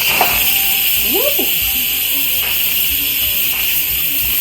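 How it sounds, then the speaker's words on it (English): Steam hisses steadily and loudly from the pressure-release valve of a Disney-themed Instant Pot pressure cooker as leftover pressure vents. The hiss runs throughout, with faint background sounds underneath. "now I'm releasing whatever pressure was left in there"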